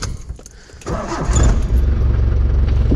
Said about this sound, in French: Alors là, quand on démarre la voiture